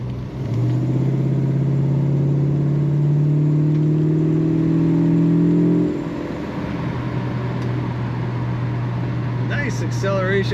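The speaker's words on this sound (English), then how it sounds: "Nice acceleration, nice smooth ride out of this car" A 1969 Plymouth GTX with an automatic transmission accelerating on the road, its engine drone rising in pitch and loud, then easing to a steady cruise with road noise, with a brief voice at the end.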